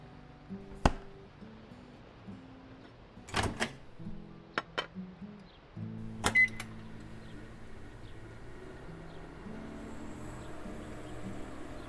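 Food being chopped for a burger in the Paralives life-simulation game: a few sharp, separate knife chops over a steady bed of soft game music and tones.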